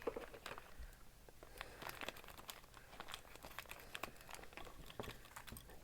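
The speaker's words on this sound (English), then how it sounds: "I'm not keen on opening packages because of the noise they make" A plastic package of Eddie Stobart model truck parts, the rear axle leaf springs, is opened, giving a continuous close crinkling and rustling with sharp crackles throughout, fairly quiet and without talk.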